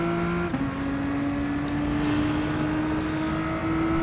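GT Sport racing game cars, including a Bugatti Veyron and a Volkswagen Scirocco, as a steady high engine drone with a sudden pitch drop early on, then a slowly rising whine as the cars pull past, continuous, without speech.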